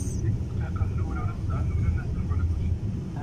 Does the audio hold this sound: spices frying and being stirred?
no